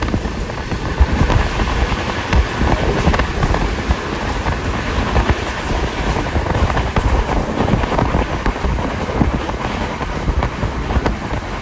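A train rolls steadily along the railway between Chandigarh and Delhi, a loud continuous rumble with rattling carriages and wind noise throughout, with no talking.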